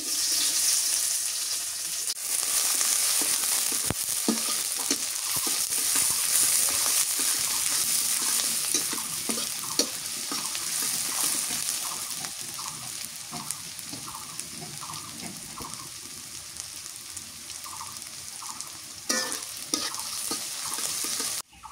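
Onion sizzling in mustard oil in a pan for a leaf-and-small-fish curry, a steady loud hiss with repeated scraping stirs throughout, no voices.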